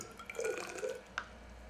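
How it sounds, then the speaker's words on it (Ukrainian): Water trickles and splashes softly into a measuring cylinder in a short, quiet pour, ending with a small drip-like plink. "нальємо в мензурку певну кількість води"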